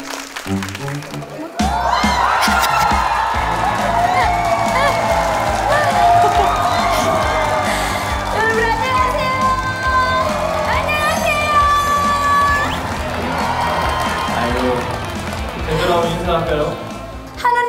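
Crowd at a village music festival in Hanwon-ri, Jeju, cheering and applauding for singers on stage, with loud sustained clapping, whoops and shouts near and far, alongside music and an amplified voice.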